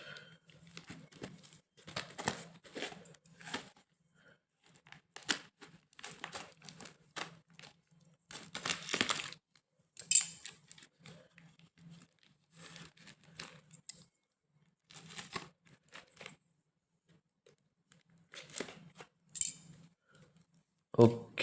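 A coin parcel's packing is opened by hand, producing scattered crinkles, rustles and light metallic clinks that come in irregular bursts, some louder, with quiet gaps in between.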